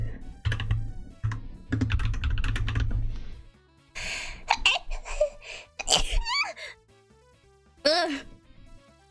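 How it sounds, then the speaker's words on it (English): A person sneezes loudly several times in quick succession, close to the microphone, with gasping breaths between sneezes and keyboard clatter just before. "I know there's a lot of bad noise whenever I sneeze like that"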